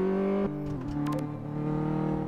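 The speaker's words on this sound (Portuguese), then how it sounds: "Quando você tá parado, que dá uma acelerada." A car engine revs from standstill in Car Mechanic Simulator 2015, a loud, close, steady growl that rises in pitch as it accelerates, heard alone.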